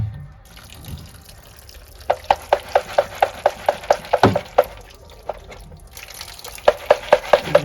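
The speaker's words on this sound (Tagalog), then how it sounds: "After rinsing, we're going to let the water flow." Water from a tap splashes over mung beans in a holed rinsing container, a steady close wash broken by a run of quick rhythmic clicks and knocks partway through and again near the end.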